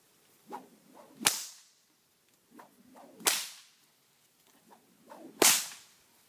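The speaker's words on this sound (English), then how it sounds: "wherever I'm standing holding this whip" A horse whip swung and cracked three times at a steady pace, each sharp crack preceded by a soft swishing whoosh, close by in a quiet outdoor setting.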